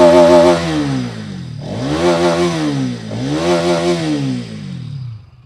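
A 2023 Bajaj Pulsar NS200 motorcycle engine is blipped to mid revs around 5,000 to 6,000 RPM, with two rising-and-falling throttle sweeps over a steady idle, loud and close, ending in a drop back down.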